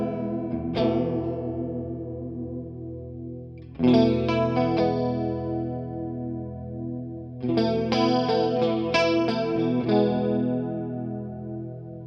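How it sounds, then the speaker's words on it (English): Electric guitar played through a Donner multi-effects pedal set to chorus, ringing chords and single notes with a shimmering, wavering swirl, three strummed phrases each left to sustain and decay, no talking. "Now I'm going to adjust it through some of the settings for the chorus, just so you can hear the range"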